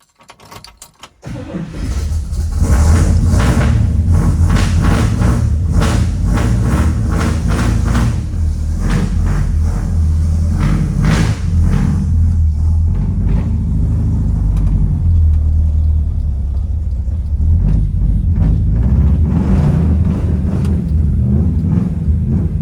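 A 1963 Pontiac Grand Prix with a 421 Tri-Power V8 built to about 525 horsepower cranks briefly, fires loudly and settles into a strong, slightly lumpy idle that holds steady, with a few revs, and no voices.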